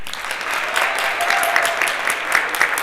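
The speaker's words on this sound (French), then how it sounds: "Oui, on applaudit." Audience applause in a Montreal entrepreneurship discussion hall, steady dense clapping of moderate loudness sustained throughout, no voices on top.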